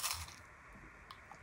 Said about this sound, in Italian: Sentite che croccantezza.